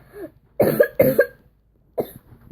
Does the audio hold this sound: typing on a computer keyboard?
no